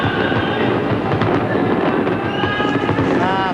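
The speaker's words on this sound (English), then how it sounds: "Fireworks lighting up the sky tonight in cities all around the Bay Area." A dense, continuous crackle and rumble of Fourth of July fireworks over the Bay Area, loud and steady throughout, with no clear pauses between bursts.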